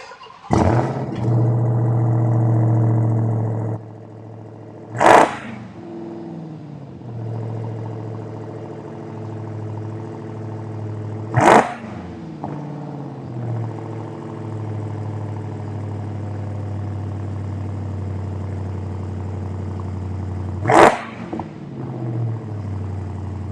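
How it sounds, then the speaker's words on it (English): A car engine idles steadily with a low rumble, broken by three sharp, loud pops spaced several seconds apart, after an early rise in engine level. "Is it going to have a huge, loud pop in the beginning and then kind of rev?"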